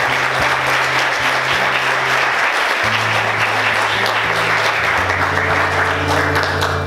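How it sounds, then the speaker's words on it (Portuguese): A church congregation claps loudly and continuously, a dense sustained wall of applause from a large crowd that holds steady throughout, with a low musical hum beneath it. "Vamos aplaudir Jesus bem forte."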